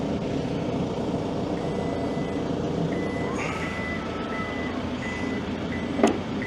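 A couple of short electronic warning beeps from a Toyota Prado 250 GXL tailgate sound over steady background noise, followed by a brief clunk near the end.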